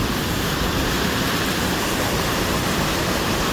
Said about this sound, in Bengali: এই যে জলটা আসছে এটা আমাদের ইন্ডাস্ট্রিয়াল জল